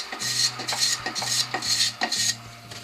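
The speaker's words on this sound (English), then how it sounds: "So I'm going to brush out the shavings" Brush sweeping wood shavings out of a hollowed turned wooden bowl, five rhythmic bristly scrapes in quick succession, close and fairly loud, with a faint low hum underneath.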